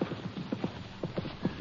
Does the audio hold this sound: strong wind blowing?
no